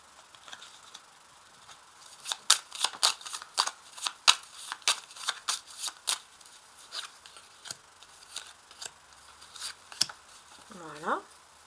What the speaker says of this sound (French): Ensuite je vais positionner ces cartes là.